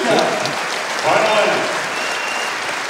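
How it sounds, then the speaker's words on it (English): Steady applause and cheering from spectators at a women's compound archery gold final in Nîmes, a continuous crowd roar with a commentator talking over it. "des applaudissements et des encouragements de tout le public"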